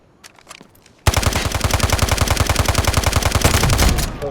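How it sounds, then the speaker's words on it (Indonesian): Sustained automatic machine gun fire in the mobile shooter Garena Delta Force, a loud, rapid, evenly spaced burst of close shots running for about three seconds after a few faint clicks. "Ngabisin peluru doang sih sebenarnya, tapi kalau dibiarin sakit juga tuh damage."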